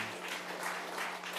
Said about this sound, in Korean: 우리 큰 박수로 우리 축하해 주시기 바랍니다.